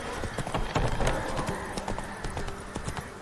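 Roach, the horse in The Witcher 3: Wild Hunt, trots along with steady, close hoof clip-clops in a quick even rhythm, with no voices over them.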